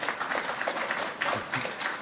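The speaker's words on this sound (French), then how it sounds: "Vous pouvez applaudir là." An audience at a French political conference applauds, a dense, steady wash of clapping that holds for two seconds at moderate loudness.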